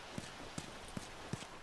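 Horse hooves clop in The Last of Us video game, four evenly spaced hoofbeats in a steady walking rhythm, fairly near and moderately quiet over a faint background hiss.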